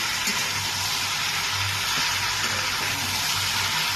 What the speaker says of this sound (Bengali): তেলটা দেওয়ার পর এবার এটাকে আমি কিছুক্ষণ ভালো করে ভাজবো